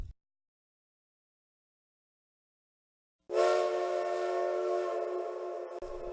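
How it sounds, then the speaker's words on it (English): After about three seconds of silence, a steam locomotive whistle sounds at midnight in 1862 Jackson, Ohio, as a prolonged, steady, loud harmonic blast that holds until the end. "the town was awakened by the prolonged whistle of a locomotive"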